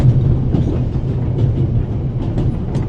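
A moving train rumbles steadily in an audio drama, a loud close low-pitched roll with faint rhythmic rattling from the carriages and no talk.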